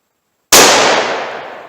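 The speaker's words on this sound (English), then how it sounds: "327 Federal Magnum, significantly higher rate of velocity, 100 grain bullet. Let's see how this does." A single sharp, loud gunshot from a .327 Federal Magnum revolver cartridge firing a 100 grain bullet, cracking after a moment of silence and decaying in a long ringing tail.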